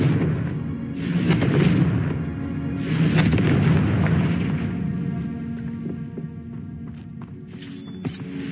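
Confringo blasting spells fire in Hogwarts Legacy, producing repeated deep rumbling booms that roll and swell across a busy, continuous backdrop of game sound, with no talking.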